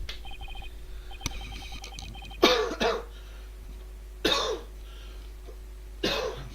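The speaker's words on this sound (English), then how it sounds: "I'm sorry, I coughed a lot." Three separate bursts of coughing, each short and harsh, spaced a couple of seconds apart, with faint electronic beeps in the background early on.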